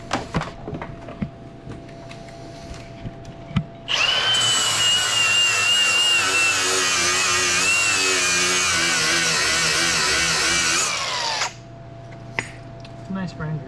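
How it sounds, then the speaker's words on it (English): An angle grinder bites into a steel tube subframe for an LS-swapped Subaru, a loud sustained screech lasting several seconds, with shop clatter and a voice before and after. "Got the grinder, I'll grind it at a good spot."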